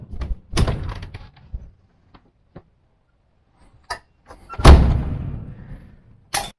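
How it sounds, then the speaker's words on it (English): A pin-locked door on an off-road camper is pulled open, giving a few sharp metallic clunks and rattles followed by a louder, longer thump and scrape as the panel swings, with quiet gaps between the bursts. "remove one pin, open that side, and like that we can open the door"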